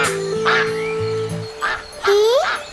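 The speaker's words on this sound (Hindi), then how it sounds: "क्वाक क्वाक की आवाज सुनकर नन्हा बतख झट से उठ गया" Cartoon ducks in a children's animation quack in a few distinct, nasal, tonal calls spaced over a couple of seconds, loud and close over a soft held musical tone.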